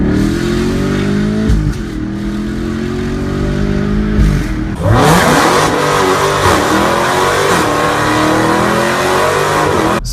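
Loud aftermarket exhaust on a 2018 Ford Mustang revving repeatedly, sharp climbing and falling engine pitch with a burst of heavier throttle midway, close and dominant with no talk.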